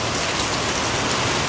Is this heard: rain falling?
yes